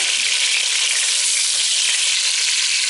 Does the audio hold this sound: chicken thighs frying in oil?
yes